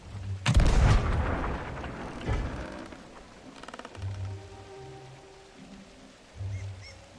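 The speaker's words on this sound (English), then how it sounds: "Let's see if we can shoot the black pearl." One heavy cannon blast booms out in Sea of Thieves, fired at the Black Pearl ship, then fades into a low rumble with faint, scattered thuds and ambient noise.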